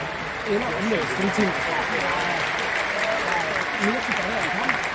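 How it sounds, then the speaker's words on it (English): An arena crowd at a gaming tournament event in Denmark's Royal Arena breaks into sustained applause, with a voice talking over the steady clapping throughout. "Please, a round of applause for them."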